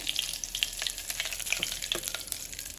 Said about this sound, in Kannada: ಈಗ ಒಂದು 5-6 ಕರಿಬೇವಿನ ಎಲೆಗಳನ್ನು ಹಾಕ್ಕೊಳ್ತಾ ಇದ್ದೇನೆ.